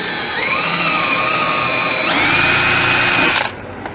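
A power drill with an auger bit works into wood while pine table legs are fitted to a mahogany tabletop, a loud whine that holds steady, steps up in pitch midway, then cuts off sharply near the end.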